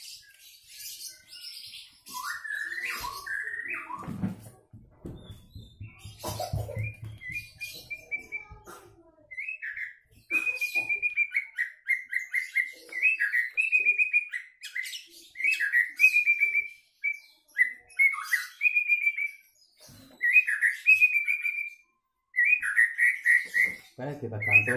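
A caged kacer (magpie robin) songbird chirps and whistles in bright, repeated phrases, loud and close, with short pauses between bursts and some low rustling and handling noise early on.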